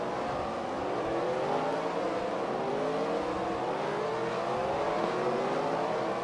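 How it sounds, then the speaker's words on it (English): Race cars in the NASCAR Racing 2003 game crowd pit road at Phoenix, with a loud, continuous drone of overlapping engines whose whining tones rise and fall steadily throughout and no talk. "Almirola will probably be the last car on pit road"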